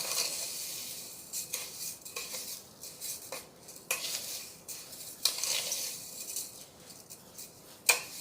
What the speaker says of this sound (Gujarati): આ બધુંને સરસ રીતે મિક્સ કરી લેવાનું